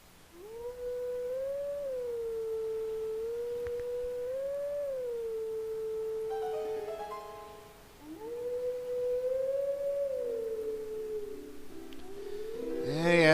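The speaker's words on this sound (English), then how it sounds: "Yes, howl that Toon Link, howl it!" Wolf Link howls a melody in The Legend of Zelda: Twilight Princess, long pure-toned wavering notes that rise and fall in a slow tune, with game chimes entering near the end.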